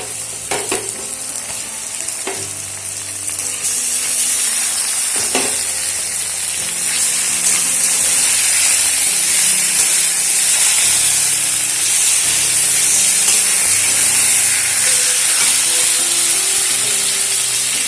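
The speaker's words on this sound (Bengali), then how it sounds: "এর মধ্যে ম্যারিনেট করে রাখা চিকেন দিয়ে দেবো" Marinated chicken sizzles and fries with tomatoes in a hot pan for coriander chicken, a loud steady hiss with occasional stirring scrapes and clinks throughout.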